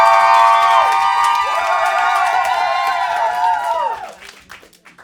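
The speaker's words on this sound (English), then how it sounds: "please clap it up and make some noise if you think Chloe McGovern took this battle" A comedy roast battle audience in New York cheers and whoops loudly for a competitor, with clapping mixed in. The shouting voices hold strong, then die away over the last second.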